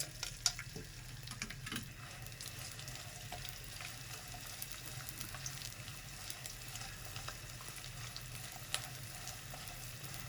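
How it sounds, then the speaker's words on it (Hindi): Edible gum (gond) frying in hot ghee, a soft, steady crackling sizzle with a few sharper pops, fairly quiet and close, with no one speaking. "ये इतनी थोड़ी थोड़ी करके 2 दफ़ा करके मैं फ्राई करूँगी।"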